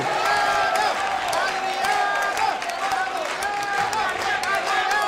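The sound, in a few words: audience applause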